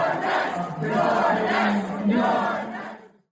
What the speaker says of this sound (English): When Hakeem Jeffries appeared on TV at a DSA election night party, the crowd chanted, "You're next."